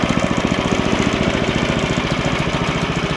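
An Ariens ST724 snowblower engine running steadily at a constant speed, loud and close, with a rapid, even chugging pulse throughout and no voices.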